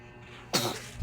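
One sudden, close sneeze bursts out of a quiet room after a short hush, sharp and breathy, then trails off quickly.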